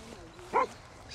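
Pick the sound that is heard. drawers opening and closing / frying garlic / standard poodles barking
standard poodles barking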